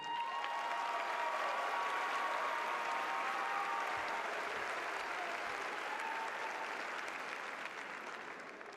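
Sustained applause fills a high school graduation ceremony in Tuscaloosa County after honor graduates are recognized, a dense steady clapping from a large audience that carries on for several seconds before slowly tapering at the end.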